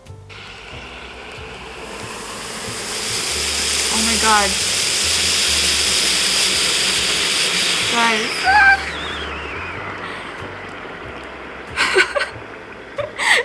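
Spicy food simmering inside a covered self-heating meal container in a hotel room gives off a steady hissing, bubbling wash that swells and then eases, while a voice reacts near the end and a few sharp clicks follow.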